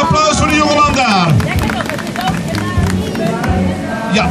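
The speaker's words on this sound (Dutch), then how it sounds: "Een applaus voor de jongeman daar." A crowd applauds a young man at a live event where cookies are handed out, with loud clapping and cheering mixed with lively chatter and a voice speaking over the noise.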